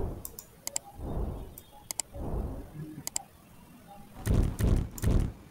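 Sharp computer mouse clicks in small pairs and clusters while taking a screenshot in Google Chrome, spaced across the clip between bursts of low, muffled breathy noise.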